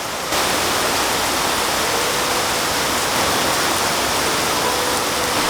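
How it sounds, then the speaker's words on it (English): Heavy rain pours down steadily outdoors near a ferry port on a trip from Krabi to Koh Samui, a loud, continuous dense wash of drops with no gaps, filling the whole scene. "it is absolutely pouring right now. Just dumping rain. It's literally so loud."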